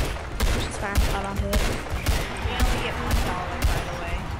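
Repeated gunshots ring out as players shoot at a giant in Roblox Giant Survival, a steady barrage of sharp cracks layered over game sounds and chatter.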